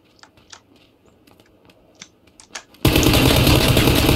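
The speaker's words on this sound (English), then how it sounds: "Oh shit, someone's shooting at me." Gunfire in PlayerUnknown's Battlegrounds: a few light scattered clicks, then a sudden loud, dense burst of shooting that fills the rest of the moment.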